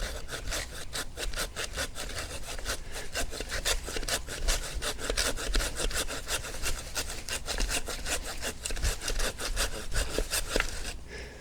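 Steady back-and-forth rasping of a Corona 10-inch razor tooth pull saw cutting through wood, strokes repeating rapidly and evenly throughout, close and loud with no talking.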